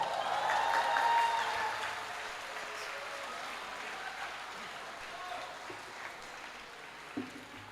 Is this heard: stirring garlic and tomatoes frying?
no